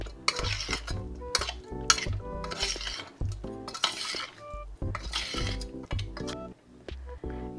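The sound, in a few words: stirring meat mixture with a spoon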